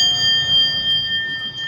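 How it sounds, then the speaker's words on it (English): Hotel dinner bells ring with steady, high sustained tones, loud and continuous, over a faint low hum of the room. "These dinner bells are so loud"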